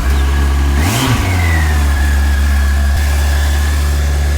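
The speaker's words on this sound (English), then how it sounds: "1300 4-cylinder, classic sound of the FJR." Yamaha FJR1300 four-cylinder motorcycle engine idling close by, with one sharp rev that rises and falls quickly before it settles back to a steady idle, loud and with no voices.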